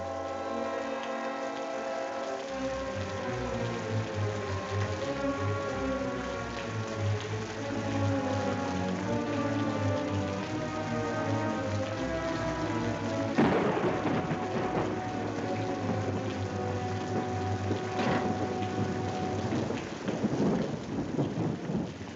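Heavy rain pours steadily while deep thunder rolls and rumbles, with a sharp loud crack partway through and more rumbling after.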